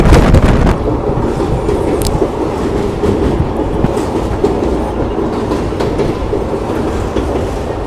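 A train rumbles steadily across a bridge near Agri stop, on the Ballari to Mantralayam route, loud and close, with a continuous heavy clatter of wheels and occasional metallic clanks throughout.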